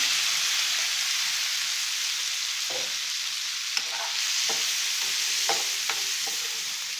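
Prawns fry in a pan with butter and browned garlic, a steady bright hiss of sizzling fat with a few soft taps and stirs of a spatula, close and without voices.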